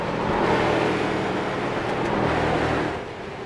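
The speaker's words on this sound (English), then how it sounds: "Karp continues to drive that car around the racetrack" A race car engine roars steadily on the USA International Speedway track during a heat race, loud and close with continuous drone and slight rises in pitch, no voices.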